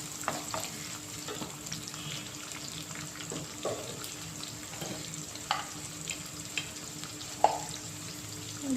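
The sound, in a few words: onions and green chilli frying in oil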